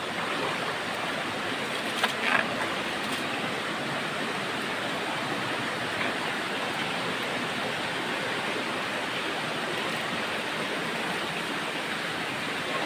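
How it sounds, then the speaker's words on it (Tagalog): Water falls and drips inside a small cave, making a steady, full rushing wash that holds even throughout, with no voices. "Ah, sarap ng tulo ng tubig."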